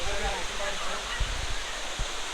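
Elephant Falls in Meghalaya roars as a steady, dense wash of cascading water, loud and continuous throughout, with faint voices of visitors mixed in.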